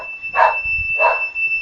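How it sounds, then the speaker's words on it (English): An indoor electronic alarm goes off with two short, identical beeps about half a second apart, loud and close, over a faint continuous high whine. "We got alarms!"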